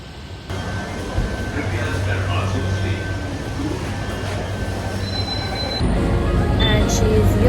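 A metro train rolls along with a steady, loud rumble and high wheel squeal, growing heavier near the end, while a person talks now and then.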